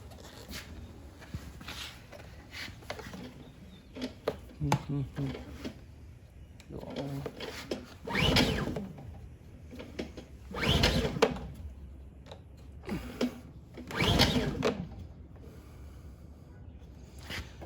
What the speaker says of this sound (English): So give it a couple rips here and let's see if we can get it started.